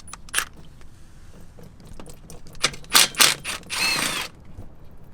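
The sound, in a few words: removing Torx bolts from BMW transmission pan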